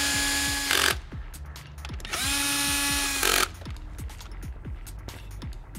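Cordless power drill driving the supplied bolts that fasten a fuel rail to an intake manifold during an MPI kit install: two sustained whirring runs of a few seconds each, close and fairly loud, with clicks and clatter between them.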